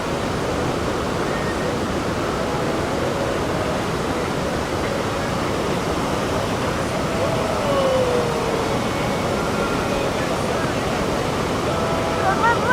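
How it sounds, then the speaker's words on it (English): Water falls and flows at the source of the River Nile in Jinja, Uganda, making a loud, constant roar that stays unbroken throughout. "sound of water falling and flowing in rhythm with nature"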